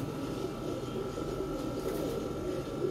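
Pigeons coo softly in a loft, including black and golden birds, a low murmuring under steady background noise and a faint tonal hum, with no clear talk.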